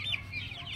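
A chicken gives short, faint clucking calls, a few brief squawky notes in quick succession against a quiet outdoor background.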